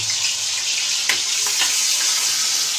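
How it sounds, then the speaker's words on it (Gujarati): Green chilies fry in hot oil in a kadai, giving a steady, close hiss of sizzling with a couple of faint clinks partway through. "કડાઈમાં તેલ ગરમ થવા મૂકી દીધું છે લીલા મરચાં ઉમેરી દીધા છે"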